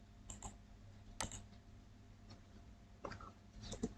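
Scattered keystrokes on a computer keyboard, a few soft, sharp clicks spaced irregularly with pauses between them, close and quiet, with no speech.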